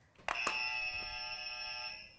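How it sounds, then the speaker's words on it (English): A loud electronic quiz-show contestant buzzer sounds once during a test, a sharp click followed by a steady, bright tone held for about two seconds. "can you test your buzzer for me, Alex?"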